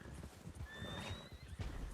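Horse hooves clip-clop at a gallop through trees in the video game Red Dead Redemption 2, with a whinny and the rider's gear jostling, steady and close throughout.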